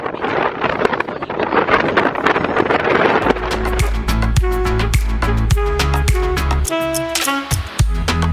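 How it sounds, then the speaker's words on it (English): Strong wind in Copenhagen roars and buffets the microphone for a few seconds, then gives way to a busy, tonal clatter of other sounds. "Very windy. It's very windy."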